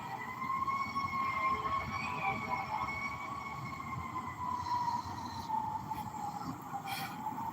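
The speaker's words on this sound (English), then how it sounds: "Here come a siren." A siren wails outside, its steady rising and falling tone holding through the whole stretch over a low background rumble of traffic, fairly loud and close as it passes.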